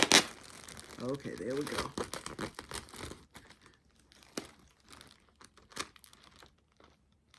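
A taped, wrapped mail package opened slowly and carefully at close range, with bursts of crinkling paper and tape tearing that fade to sparse rustles; a person speaks briefly over the early handling.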